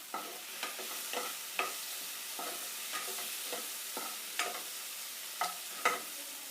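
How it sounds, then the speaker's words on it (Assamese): A spatula scrapes and stirs a rice, bitter gourd and Nutella curry in a pan over a low gas flame, soft regular strokes over a faint steady sizzle, with no voices. "এতিয়া মই আকৌ এবাৰ চলাই দিছোঁ।"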